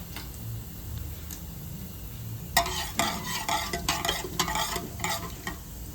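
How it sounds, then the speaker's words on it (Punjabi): Cumin seeds fry in hot oil in a pressure cooker, starting with a low background hiss, then breaking into a close, steady crackle and sizzle with quick popping bursts for the last half. "ਜਦੋਂ ਆਇਲ ਥੋੜਾ ਜਿਹਾ ਹੋ ਗਿਆ ਗਰਮ ਵਿੱਚ ਪਾਵਾਂਗੇ ਜੀਰੇ ਜੀਰੇ ਨੂੰ ਚੰਗੀ ਤਰ੍ਹਾਂ ਕਰ ਲੈਣਾ ਆਪਾਂ ਲਾਲ"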